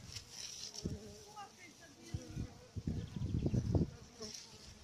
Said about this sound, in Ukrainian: Є багато бджіл внизу